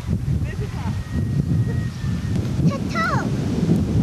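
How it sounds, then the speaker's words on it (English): Outdoor wind rumbling and buffeting a microphone at a birthday gathering, steady and loud through the clip, with voices and shouts of people nearby mixed in. "The wind's blowing up the other way."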